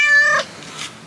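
A kitten gives a short, clear, close meow, loud and alone, followed by a faint softer trailing cry.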